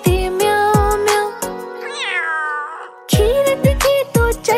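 A cat's meows sung in a Hindi nursery rhyme, loud and repeated with percussive beats, including a long wavering meow in the middle before the rhythmic backing returns.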